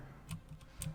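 Game controls click in two or three light, close ticks within a second, quiet and isolated, while a War Thunder plane is flown on a test range.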